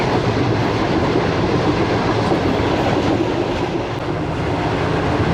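A Business Express passenger train with a mixed-coach rake rolls along the rails, a steady loud rumble with faint clickety-clack from the wheels, close and continuous throughout.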